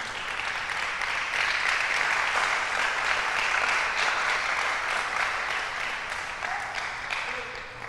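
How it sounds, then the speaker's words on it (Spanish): A church congregation applauds, dense sustained clapping from many hands that swells and then slowly fades, with faint voices beneath it. "Dele un aplauso al Señor"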